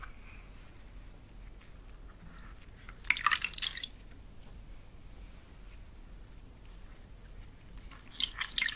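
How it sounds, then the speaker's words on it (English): Warm herbal bath water is handled up close, with soft drips and gentle trickling splashes in two brief bursts against a quiet background. "especially warm water with herbs like we have here in this bath"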